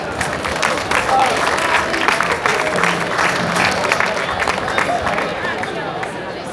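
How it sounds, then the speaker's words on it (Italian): Audience applause for the folk group Batormoros of Oliena at the third Su Carmu folk festival, a dense, steady burst of many hands clapping with crowd murmur and scattered voices throughout. "Applausi."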